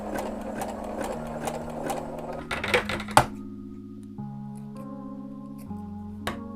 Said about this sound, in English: I'm gonna try putting them wrong sides together and then zigzag stitching all the way around.